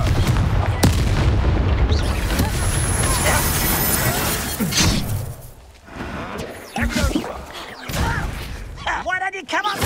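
A fire spell explodes in Hogwarts Legacy, a loud booming blast followed by rumbling debris and whooshing combat noise, with a voice shouting over the start.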